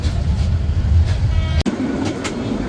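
Sagarika commuter train running from Chandpur toward Chittagong, a steady loud rumble of wheels and carriage noise heard from inside the crowded coach, with one sharp click partway through.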